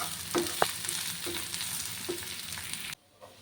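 Shallots and grated coconut fry together in oil for a Kerala chatti kalthappam, giving a steady close sizzle broken by a few stirring scrapes before it cuts off near the end.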